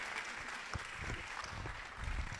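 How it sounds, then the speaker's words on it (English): Soft, distant applause from a seated audience welcoming Professor Tunji Oyelade to the stage at a law event, a steady low wash of clapping with a few low thumps. "With a round of applause, can we please welcome Professor Tunji Oyelade."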